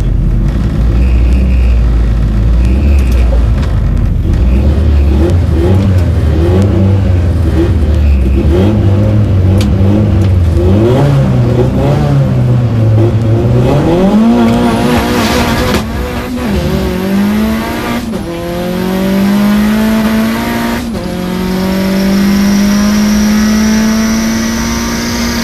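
A drag racing car running boost accelerates hard through its gears. The loud, close engine note climbs steadily, drops at each shift, then rises again, with no voices heard.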